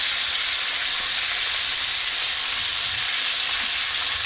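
Lipti fish frying in hot oil, a steady, close sizzling hiss that runs unbroken and fairly loud throughout with no voices.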